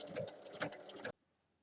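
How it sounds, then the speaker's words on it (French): A sewing machine runs a 1 mm topstitch to close the opening of a nesting fabric basket, a quick rapid stitching burst about a second long, then stopping abruptly into near silence. "on va venir refermer l'ouverture en faisant une surpiqûre à 1 mm"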